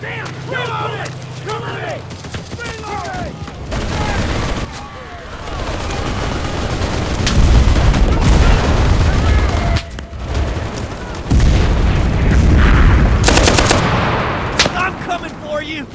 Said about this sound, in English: We need artillery support!